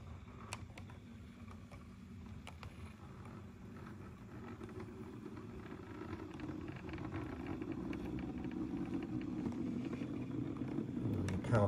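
A Hornby APT-P model train power car running slowly gives a steady, grumbly motor rumble that grows gradually louder over about twelve seconds, with light clicks and rattles on top.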